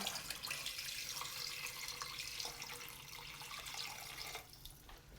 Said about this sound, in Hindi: इसमें जाएगा आप सबसे पहले पानी, 1 लीटर पानी है जी